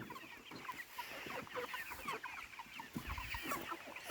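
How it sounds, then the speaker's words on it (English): Several chickens around eleven and eight weeks old cluck continuously in a busy overlapping chorus, close by and moderately loud, with no talking. "So, yeah, they're happy chickens"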